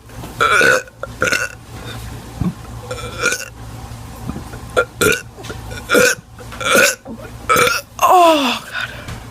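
A teenager lets out a series of loud, close burps, roughly eight separate belches of varying length spread across the stretch, the last one drawn out with a falling pitch, with short quiet gaps between them.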